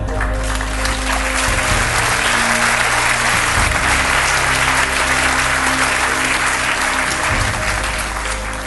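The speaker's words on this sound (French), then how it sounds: "Thank you for the applause," An audience applauds a speaker at a medical talk, with loud, sustained clapping from many hands spread evenly across the whole stretch and a low hum running beneath it.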